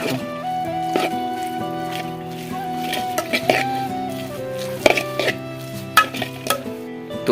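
Maggi noodles are stirred in a pan, with intermittent scraping and clinking of a utensil against the pan under steady background music.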